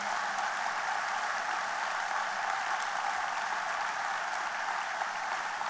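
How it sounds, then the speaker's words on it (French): Steady applause from a sizable audience at a political speech, a dense even wash of clapping that holds at the same level throughout. "Marie-Dominique Simonet, merci de la féliciter par vos applaudissements."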